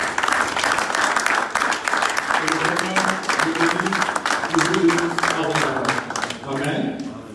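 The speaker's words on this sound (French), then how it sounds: "on peut juste acclamer pour eux" A church congregation applauds together in a steady, dense, loud wash of clapping lasting several seconds before fading at the end.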